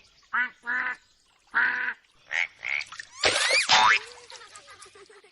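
A voice imitates a frog call in a series of short nasal croaks and honks, several evenly spaced, then a rising warbly squawk, close and fairly loud.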